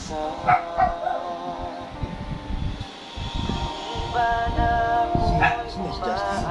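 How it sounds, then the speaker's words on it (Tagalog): A dog yips and barks in short bursts over ongoing music and background chatter, some calls stretching into whiny cries. "Ingay ng aso ha."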